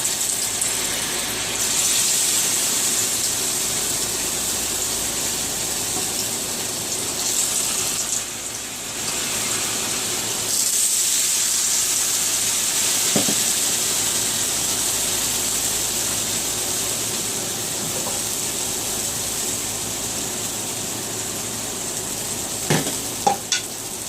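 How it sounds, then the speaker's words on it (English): Spoonfuls of lace cornbread batter frying in a pan of hot grease give a continuous loud sizzle and crackle, close by, with a few faint clinks near the end. "I'm just going to take a little spoonful and drop it in the grease"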